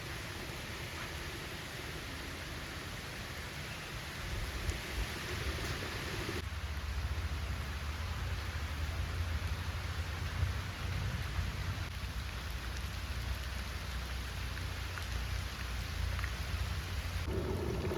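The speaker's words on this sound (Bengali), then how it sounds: "দেখো মুসল ধারায় বৃষ্টি হচ্ছে" A dense, steady roar of heavy rain pours down without pause, loud and close, with no voices.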